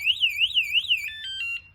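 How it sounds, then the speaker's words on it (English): An Aventon Aventure e-bike's anti-theft alarm sounds close and loud, a warbling siren sweeping up and down several times before switching to a few short, steady beeping tones. "But if you move it again, then you get your alarm."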